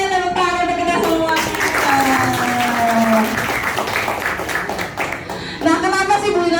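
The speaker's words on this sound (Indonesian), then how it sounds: "tepuk tangan untuk kita semua" A classroom of students applauds together, with children's voices calling out over the steady clapping throughout.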